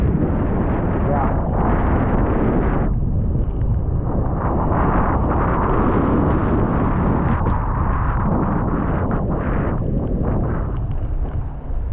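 Strong storm wind in open country on the Viking Way in February, a loud continuous roar with heavy buffeting against the microphone throughout.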